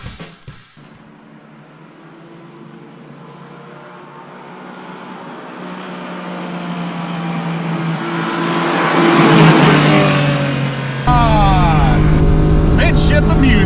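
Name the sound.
1991 Honda Beat mid-engine kei sports car engine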